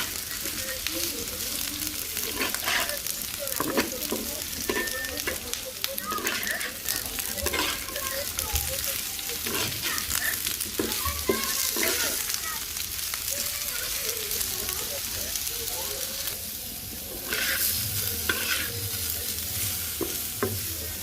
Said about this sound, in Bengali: নেড়ে চেড়ে দিব একটু